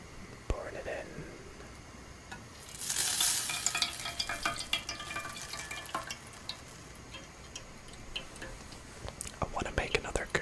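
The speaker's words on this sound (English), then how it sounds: "Pouring it in." An ingredient is poured into a pan during home cooking, a soft rushing hiss swelling around three seconds in and trailing into fizzy sizzling crackle, close and moderately loud with faint ticks and taps afterward.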